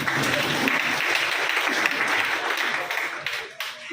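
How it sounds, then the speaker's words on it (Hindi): An audience at a mental health talk by a psychiatrist breaks into close, dense applause that holds steady for several seconds, then thins and tapers off at the end. "ताली बजाइए"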